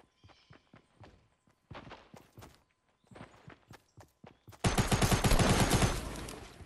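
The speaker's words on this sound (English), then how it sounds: "He's wrecking with a submachine gun" Submachine gun fire in Fortnite, heard as short rapid bursts of sharp cracks with brief gaps, then a long, loud, dense stream of continuous fire near the end.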